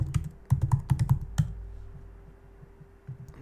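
Fingers type on a computer keyboard, a quick burst of close, crisp key clicks followed by a few slower, softer taps after a short pause.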